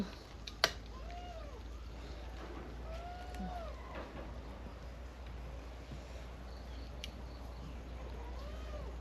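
A cat meows several times outdoors in a Thai home kitchen setting, short rising-falling cries spaced apart, moderately faint over wind and low background rumble, with a sharp knock near the start.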